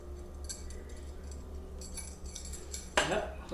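Yogurt spooned out of its container over a blender, with light clinks of utensil against container and a brighter clatter near the end, set over a steady low hum.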